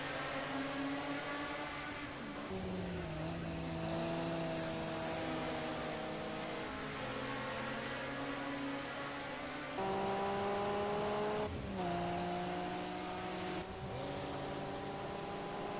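Four-wheel-drive race cars drift around Donington Park, their engines droning and shifting pitch steadily as they rev and back off, loud and continuous with no talking.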